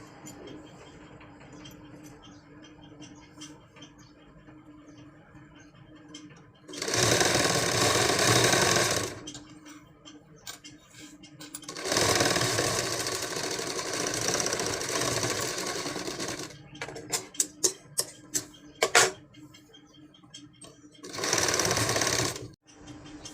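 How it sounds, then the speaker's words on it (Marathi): A sewing machine stitching a blouse seam runs in several loud bursts of rapid mechanical whirring, separated by quieter pauses and a few short clicks and taps, with no one speaking. "हे बघा अशी शिलाई मारून घ्यायची तुम्ही व्यवस्थित"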